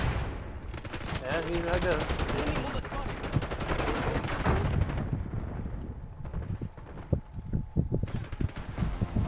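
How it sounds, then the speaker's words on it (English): In the game Black Ops 6, sustained rapid automatic gunfire rattles into a wall for several seconds, then thins into scattered shots and debris while a voice talks over it. "They decided to just shoot unload the wall."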